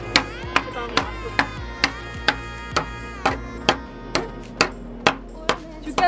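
A children's toy hammer, not a real one, bangs repeatedly in a steady rhythm of about a dozen sharp, close knocks with brief ringing tails, heard alone without talk.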